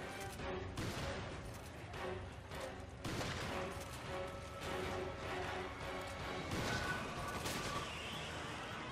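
Grenade launcher blasts in Resident Evil 5 gameplay, a string of heavy explosive bursts and crashes over dense, busy game noise, loud and close throughout.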